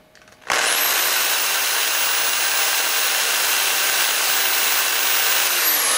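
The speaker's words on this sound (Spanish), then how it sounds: "Vamos a medir las revoluciones por minuto de este motor, de este taladro." An electric drill motor fitted with a strip of white tape on its chuck spins up abruptly and then runs at a steady, loud, high-pitched whine with no change in speed.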